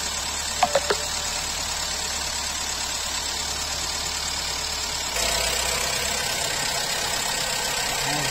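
A 1997 Ford Ka's engine idles steadily nearby, a constant low running hum with a few brief clicks early on and a slight change in tone partway through.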